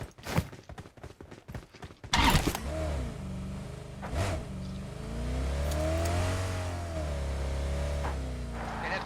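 Vehicle engine in the PUBG Mobile battle royale game, revving and driving steadily after a few sharp clicks, with a sustained mid-pitched drone that rises and falls as it moves.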